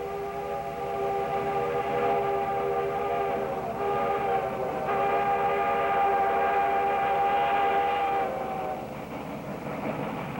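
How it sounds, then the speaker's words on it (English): A Rayonier railroad steam locomotive from 1962 sounds a long, loud, chime-like whistle, sustained nearly continuously for about nine seconds with a brief dip midway, ringing alone over a low mechanical rumble. "38's beautiful and distinctive whistle was truly a trademark of an era."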